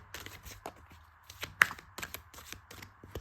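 Close, quiet hand shuffling of a deck of cards makes soft irregular riffles and taps in short bursts, with no talking.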